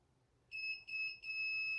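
Timer beeps from a PNW Cascadia Pro 16x20 auto flat heat press: a bright electronic tone sounds three times in quick succession, close and clear in a quiet room, with no talking.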